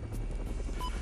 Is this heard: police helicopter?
yes